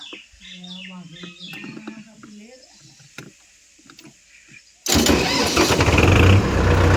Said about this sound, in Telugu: బండి సెన్సార్ కొంచెం లూజ్ అయింది పిల్ల గేర్ సెన్సార్ దానివల్ల ఒక్కసారి స్టార్ట్ అవ్వట్లేదు